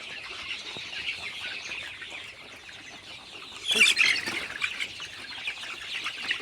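Chickens clucking nearby, a busy stream of clucks with a louder burst of squawking and flapping midway.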